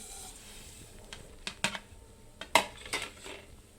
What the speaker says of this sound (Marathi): शेवया आपल्याला ह्याच्यामध्ये भाजून घ्यायच्या आहेत।